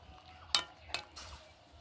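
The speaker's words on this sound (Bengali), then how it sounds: "ভালো করে একটু নেড়ে চেড়ে নেব।" A spoon stirs jackfruit and potato with salt and turmeric in a pan, making a few quick, faint scraping strokes over a soft, low background.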